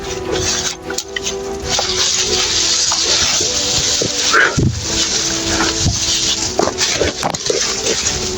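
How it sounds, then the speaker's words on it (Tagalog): Dogs barking and whimpering outdoors, a scattered series of sharp barks with whines in between, fairly loud and close over a constant background hiss. "Mga aso tayo narinig."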